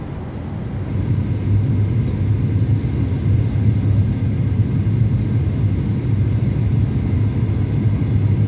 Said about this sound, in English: Let's also give some drag to this airplane, so gear down.